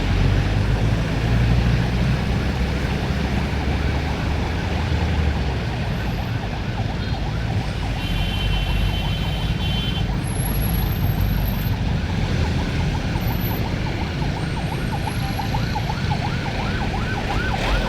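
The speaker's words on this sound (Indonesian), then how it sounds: "Nah, ambulan aja kejebak macet." An ambulance siren wails steadily through a jammed stretch of the Pantura road, heard over the loud, constant rumble of a nearby motorcycle and surrounding traffic for the whole span.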